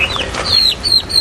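A chicken clucks close by in a short, busy burst, with a few sharp high calls over a faint background rustle and no talking.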